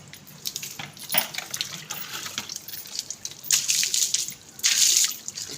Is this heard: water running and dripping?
yes